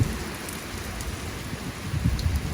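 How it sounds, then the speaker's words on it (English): Heavy rain shower near a house outdoors, a steady dense patter of drops striking surfaces with a few louder splashes, no voices. "It's too rainy. It's the shower."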